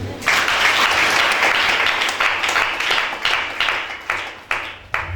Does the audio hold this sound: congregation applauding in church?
yes